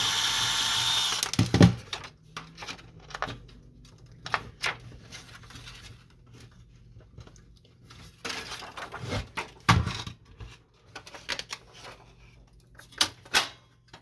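Screws being removed from the side casing of an HP LaserJet 1020 printer during disassembly: scattered clicks, taps and short scraping bursts of hand tool work, moderately close, with gaps of quiet between.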